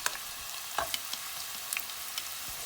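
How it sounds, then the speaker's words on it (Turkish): Steady hiss of chopped onions frying in olive oil in a pan with occasional sharp pops and crackles, close and continuous with no talking. "Soğan ve zeytinyağını güzelce kavuralım."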